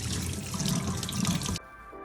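Tap water runs steadily into a sink, rinsing out coffee-dyed shoelaces, with a loud close splashing that stops abruptly near the end, leaving quiet dripping.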